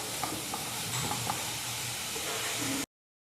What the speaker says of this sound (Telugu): ఈ విధంగా గాజర్ అంతా ఒక పావు గంట వరకు ఫ్రై చేసుకోవాలండి.